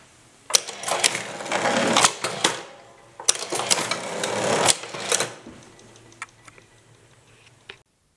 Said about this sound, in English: Inside the machine, the gears are moving mechanically.